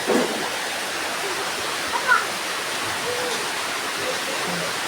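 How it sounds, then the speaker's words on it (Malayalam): Heavy rain pours down in a steady, dense hiss that fills the whole stretch without pause, with only faint bumps of other sound beneath it. "ഇപ്പോൾ വളരെ മഴയുണ്ട് കണ്ടില്ലേ മഴ പെയ്യുന്നുണ്ടല്ലോ"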